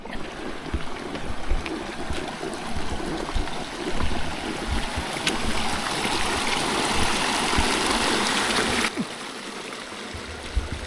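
A mountain creek in the Pecos Wilderness flows and burbles steadily nearby, a loud continuous rush of water that drops off abruptly near the end.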